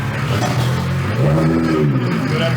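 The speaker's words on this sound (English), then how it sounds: "Give it a couple of revs." A BMW 135i with a single-turbo conversion revs once from idle, the pitch rising and falling in a smooth swell. The engine is close and loud and runs over a steady idle rumble.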